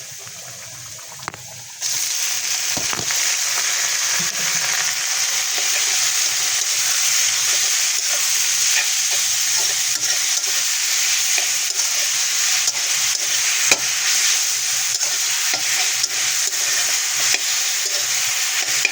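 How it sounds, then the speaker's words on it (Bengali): Jute leaves tossed into a pan of reddish-fried onions set off a loud, steady sizzle, with scraping stirs and occasional clatters of the spatula running throughout. "পেঁয়াজটা আমার লাল লাল করে ভাজা হয়ে গেছে, এখন আমি পাট শাকগুলো দিয়ে দিব"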